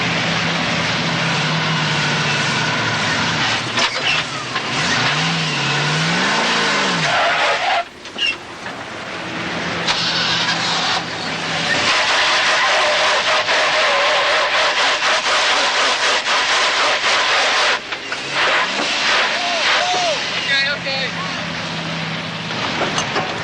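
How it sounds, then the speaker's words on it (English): Heavy engines roar steadily and loudly as two Range Rovers strain to pull a jackknifed articulated lorry free on a motorway, the revving rising and falling with brief dips. "this articulated lorry that's jackknifed, we're going to try and pull it free by using 2 Range Rovers."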